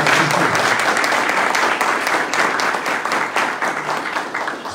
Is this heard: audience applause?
yes